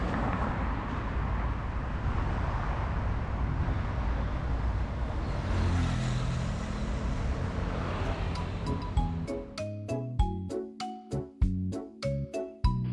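Heavy, congested traffic on the Rama 9 cable-stayed bridge, a dense steady roar of vehicles that gives way near the end to sharp rhythmic clicking and tapping close by.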